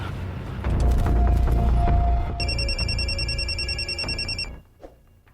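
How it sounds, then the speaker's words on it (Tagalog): A telephone rings in bright, repeated electronic trills over a low rumble and background noise. The ringing cuts off abruptly, leaving faint room sound. "Panawagan ni Boss Imanoy"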